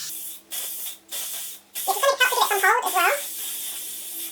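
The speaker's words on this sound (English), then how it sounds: "I use the Got To Be and I just spray it." Got To Be hair spray hisses onto braids in several close, loud bursts, with a voice talking over the spray partway through.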